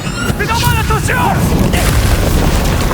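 Loud, continuous electrocution blast booming through a Spider-Man 2 video game scene, a dense rumbling roar with crackling bursts that lasts throughout, with a synthetic whine sweeping over the start.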